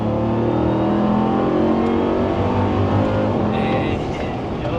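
A Dodge Demon engine on a chassis dyno holds a loud, steady roar under throttle for the whole stretch, a dense continuous drone with a slight rise near the end.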